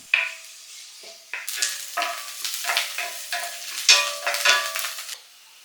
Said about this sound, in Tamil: ஒரு பேனில் லைட்டாக எண்ணெய் விட்டுட்டு கொஞ்சம் வெங்காயம், கருவேப்பிலை ரெண்டையும் போட்டு நல்லா வதக்கிக்கலாம்.